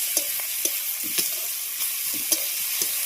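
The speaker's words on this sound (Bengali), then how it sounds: "সামান্য পরিমাণে রসুন দিয়ে দিচ্ছি।" Garlic and fried onions with green chilli sizzle in hot oil for a crab dish, with a steady frying hiss and a few scattered utensil clicks as the pan is stirred, close and moderately loud, no talking.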